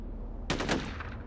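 A new weapon in the video game F.E.A.R. fires a short burst of loud, sharp gunfire, two rapid blasts followed by another, with no talking.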